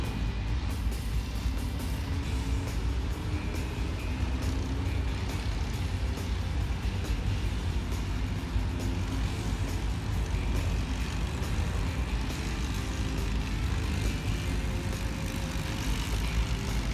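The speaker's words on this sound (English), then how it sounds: "So they're gonna like do a lap behind the pace car" Race cars roll around Mazda Laguna Seca Raceway behind the pace car, a steady, continuous engine drone and rumble heard from trackside over seventeen seconds without talk.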